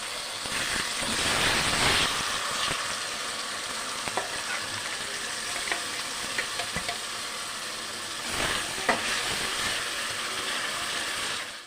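Onion and spice paste frying in a pan for mutton curry crackles and sizzles continuously, with scraping stirs and occasional louder bursts partway through.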